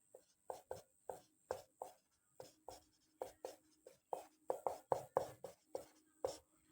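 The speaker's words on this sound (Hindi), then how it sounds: "यहाँ लिखते रहे" Writing strokes during a classroom lecture: about two dozen short, quick scratching strokes in an uneven rhythm, close and clear, with no voices.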